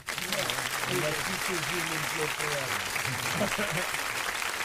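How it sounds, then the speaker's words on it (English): A crowd applauding steadily while people talk over it, with close voices running through the dense clapping the whole way. "round of applause for"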